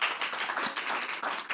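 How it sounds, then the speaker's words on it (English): A short burst of audience applause at a workshop, dense and fairly close clapping from a moderate crowd, brief and without talk. "Can I get one more round of applause, please?"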